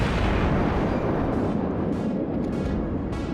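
Naval guns fire in the video game World of Warships, a heavy booming roar that lingers and fades, with a few later bursts in quick succession, no voices over it.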